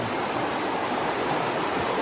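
Water from a stream flows beside a riverside campsite, a steady, even rushing hiss that fills the whole moment with no voices.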